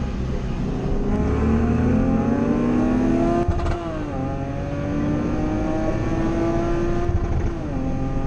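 A supercharged Lexus IS 350 engine revs hard in a roll race from about 40, climbing steadily through the gears, loud and continuous, with brief dips at each shift.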